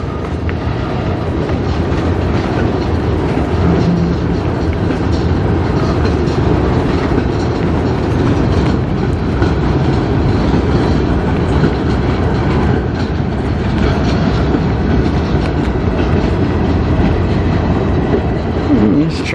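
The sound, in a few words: CN freight train moving through rail yard in Sarnia, Ontario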